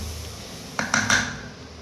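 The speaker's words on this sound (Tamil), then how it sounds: "அப்படியே கொஞ்சம் கொஞ்சமாக கிளறி விடுவோம்." A spoon scraping and knocking against a cooking pot while chicken biriyani is stirred, giving three quick close clatters in a row in an otherwise quiet moment.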